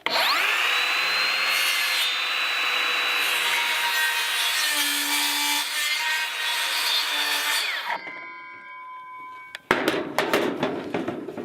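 A power saw cuts along a marked line for a garden shed floor, a loud steady whining cut that ends abruptly, followed by a few clattering knocks.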